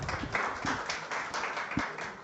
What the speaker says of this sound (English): Can we have another big round of applause for Prof. Karim?